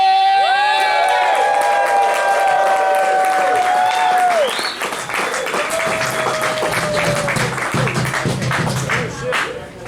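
A comedy club crowd at NWCC greets comedian Tim Gaither with loud cheering, whoops and high shouts that give way to sustained, dense applause, with voices calling out throughout.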